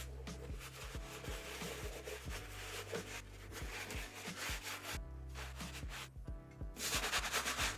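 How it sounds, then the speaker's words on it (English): Stiff bristle brush scrubbing the rubber sole of an Air Jordan 1 Hi '85 Bred sneaker, a continuous rough rubbing with quick repeated back-and-forth strokes, close and steady with no talking. "I have swapped over to the stronger bristle brush on the bottom of the shoe to give these a really good scrub"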